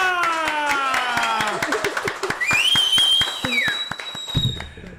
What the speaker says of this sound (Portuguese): a todos os presentes no estúdio, palmas pra doutora Vanessa!